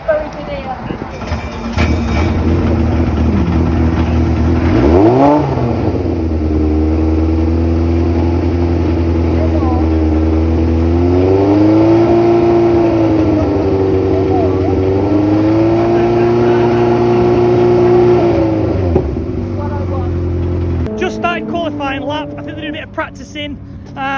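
A Vauxhall Cavalier GSi classic touring car engine revs loudly and steadily on track at Thruxton Circuit, its pitch climbing and holding in long sustained pulls, with a brief dip partway through and rough noise near the end.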